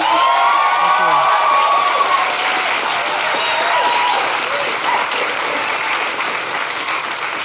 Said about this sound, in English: A big round of applause for Jordan Raskopoulos!